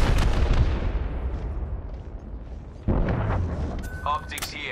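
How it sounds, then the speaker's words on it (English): Missile launches and heavy explosions in the Apex Legends video game, a dense rumbling barrage of booms with a fresh blast near the middle and whooshing tones at the end, while a voice talks over it. "Class 3, launch missiles."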